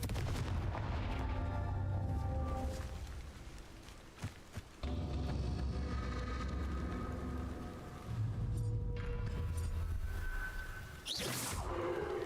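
Confringo fire spells cast in Hogwarts Legacy burst in repeated whooshing, booming blasts, some close together and others spaced apart, against a steady game backdrop.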